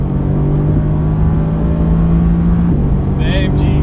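A Mercedes-AMG GT R drag racing a 700 hp Audi RS4 B5, engines straining loudly under hard acceleration with a rising tone, one gear shift, and a voice cutting in near the end.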